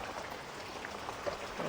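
Rain falls in a steady, close hiss with faint scattered drip sounds, a soft continuous wash with no voices.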